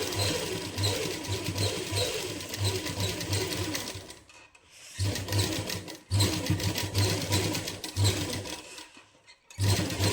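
A sewing machine stitches lace onto a suit neckline in fast, continuous bursts of rapid mechanical whirring, stopping briefly between runs.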